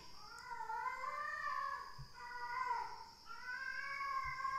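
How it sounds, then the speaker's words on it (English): A cat outdoors gives three long, wavering meows in a row, faint and somewhat distant, each one rising and falling in pitch, with no talk over them. "There's one horny cat out there."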